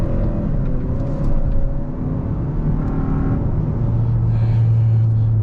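A 2021 Hyundai Sonata N Line held in second gear on an empty road, its engine droning steadily from the cabin with a rising, tonal note building toward the end; no talk.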